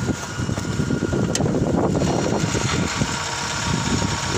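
A warmed-up Daewoo Lanos with an 8-valve 1.5-litre engine, running on LPG, idles steadily at close range with a low, even mechanical hum and faint vibration.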